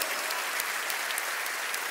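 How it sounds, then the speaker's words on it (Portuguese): A live audience breaks into brief, steady applause, many hands clapping in a dense wash at even strength throughout, with no talking over it. "Não, um aplauso para você. Aplauso."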